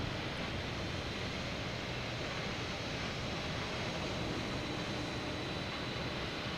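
A steady, broad roar of airliner engines at Boston Logan airport rumbles without a break, distant and fairly faint, with no distinct passes or voices.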